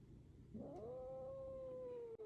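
A cat lets out a single drawn-out, low wavering vocal sigh that rises into a steady tone and holds, faint and close in a quiet room.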